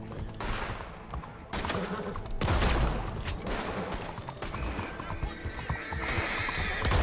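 A horse whinnies loudly in a game scene, its neigh rising over clopping hooves and scattered gunshots in a noisy, continuous mix.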